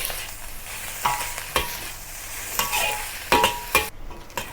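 Crab fried rice with green onions stir-fried in a wok, with a steady sizzle and repeated scraping strokes of a spatula against the pan, close and alone.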